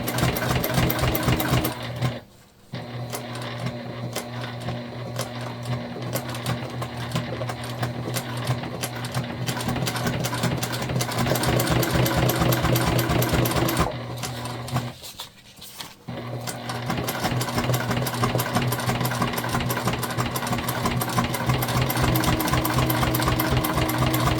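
A sewing machine stitches a tote bag in a fast, even mechanical rattle, running steadily and close, with two brief pauses before the stitching resumes.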